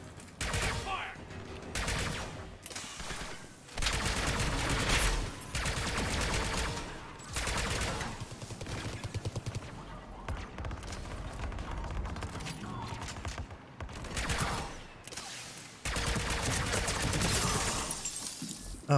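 Gunfire from a gun in Mass Effect 3 multiplayer comes in loud, rapid bursts. They repeat with short pauses between volleys against a busy, crashing combat backdrop.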